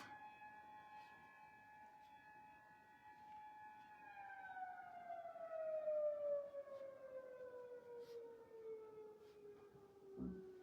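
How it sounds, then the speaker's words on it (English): A civil defense siren wails steadily at a distance, holding its tone and then slowly winding down in pitch, with no voices. "Must be 6 o'clock. Siren's going off."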